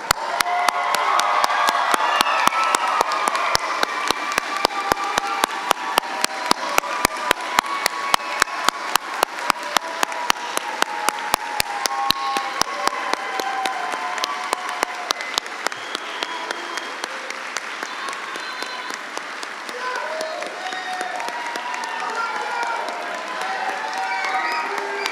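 A commencement audience for a spring graduate professional programs ceremony applauds the graduating class in a long, steady round of clapping with some crowd cheering, gradually thinning toward the end.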